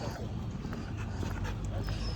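A German Shepherd whimpers softly during a training session, its faint whines sitting under a broad noisy background for a couple of seconds.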